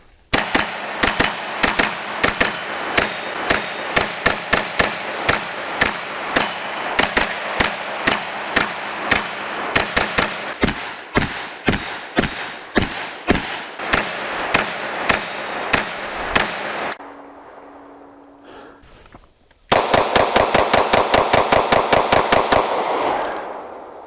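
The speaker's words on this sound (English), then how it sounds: "So we just finished off the bad guy with the Glock." Glock 9mm pistol fired at steel targets on a range: long strings of sharp, loud shots in fast rhythm, some followed by ringing metallic hits, a short lull, then another rapid burst.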